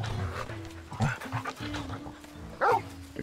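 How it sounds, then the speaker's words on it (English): A wolf pup companion in the Final Fantasy XIV game gives short panting yips and a couple of soft barks, close and moderately loud, with a sharper bark near the end over game background sound. "This is Torgel, a wolf pup raised in the duchy."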